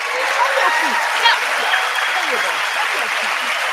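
Audience applause fills a State of the Union chamber, a steady sustained wash of clapping at moderate level with no break, a few faint voices mixed in.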